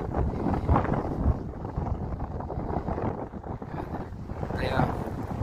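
Strong outdoor wind buffets the microphone with a steady, rough low roar and occasional gusts, near a windmill spinning fast in the breeze; the wind itself dominates throughout.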